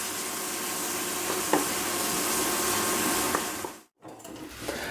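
Liquid cream thickening in a pan while it is mixed, giving a steady close hiss and swirl that runs unbroken for several seconds, stops briefly, then resumes.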